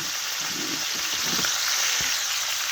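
Chicken pieces browning in a pan for a chicken tajine with olives and preserved lemon: a steady, soft sizzle and fry close by, with a few light stirring scrapes and no talking.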